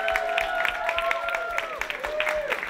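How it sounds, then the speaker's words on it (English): Applause from a live audience at a storytelling night about failures, dense and steady for a few seconds, with tonal whistle-like streaks running through the clapping. "I think we need to give Rena a huge round of applause."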